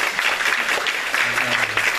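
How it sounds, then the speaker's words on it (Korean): Warm applause from a church congregation welcoming a guest during a Sunday worship service, a steady even patter of many hands clapping throughout, with a faint voice beneath it. "이하나 성도님 오셨는데 우리 같이 환영의 박수 하도록 하겠습니다."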